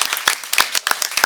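Scattered audience clapping at a school board of education meeting, a brief burst of separate claps with a thin, uneven rhythm rather than a full ovation.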